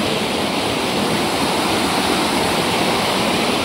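Ranteke waterfall pouring in a steady, loud, broadband roar of rushing water, continuous and close throughout with no voices.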